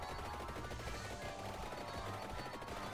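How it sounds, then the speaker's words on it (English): Rapid, continuous crackling bursts from the fireworks weapon in the game Vampire Survivors, dense and steady throughout like layered gunfire over a game soundtrack. "you can really watch them fireworks fire off"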